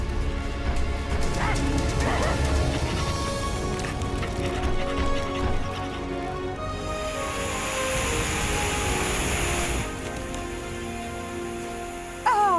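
Cartoon dogs bark and yip repeatedly at a fire station in the Transformers Rescue Bots animated series, over busy background music and crashing effects, with a whimper near the end.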